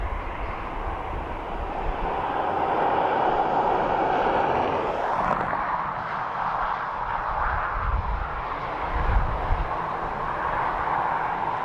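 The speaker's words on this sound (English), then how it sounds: "So this is our ATR 72-600 Loganair coming in from Aberdeen." A Loganair ATR 72-600 turboprop arriving at Dublin Airport, its steady broad engine roar holding loud throughout, shifting in tone midway as it passes, with no talk.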